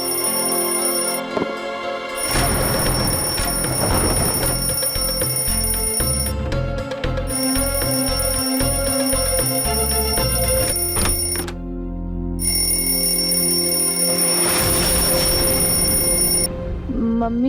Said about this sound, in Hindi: तुम्हारा अलार्म बज रहा है